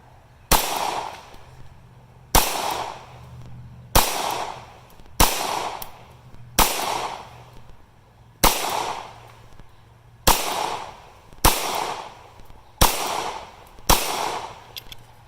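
Pistol shots ring out at a target board, nine sharp cracks spaced roughly two seconds apart, each followed by a short ringing decay outdoors.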